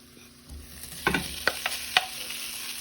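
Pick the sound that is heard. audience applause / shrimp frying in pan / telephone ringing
shrimp frying in pan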